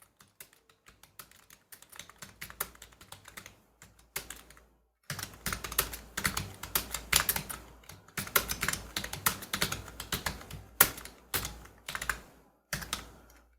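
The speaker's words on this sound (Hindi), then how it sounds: "देखो टाइपिंग करके दिखाता हूँ" Rapid typing on a computer keyboard during a Hindi typing demonstration, with dense bursts of key clicks broken by brief pauses. The keystrokes are close and clear and stand alone, with no talking.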